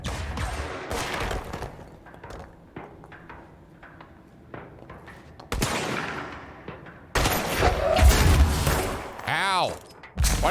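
Bursts of gunfire and loud impacts in the video game Control, building to a heavy blast with a sharp, swelling burst near the end, with quieter gaps between volleys.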